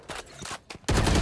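A few quick gunshots in the game Valorant, faint at first and then a sudden loud burst at the end, with no voices.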